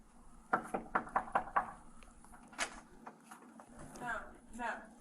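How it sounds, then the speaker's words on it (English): Police officers knock on an apartment door in a quick run of about six sharp, loud raps, followed by people talking. "The officers arrived at the apartment building and knocked on Mr. Braden and Ms. Odom's door"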